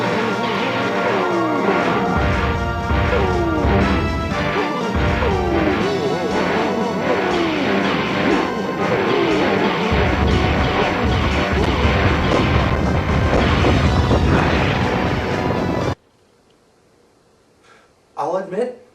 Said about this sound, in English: Why am I smashing Exor with his hammer?